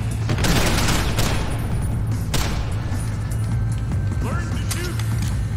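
Gunfire in Deus Ex: Human Revolution pops in scattered loud shots over a constant low rumble and whine, with a few sharp cracks standing out and a voice speaking briefly beneath the action.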